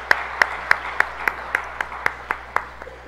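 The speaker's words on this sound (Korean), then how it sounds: "하나님께 영광의 박수를 보내겠습니다." About ten evenly spaced claps ring out in a slow, steady rhythm, each sharp and distinct, over a quiet room tone.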